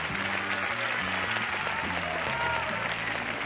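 A studio audience on the Spanish TV game show Un, Dos, Tres (1993) gives sustained, even applause for the full stretch, a dense wash of clapping with music audible beneath it.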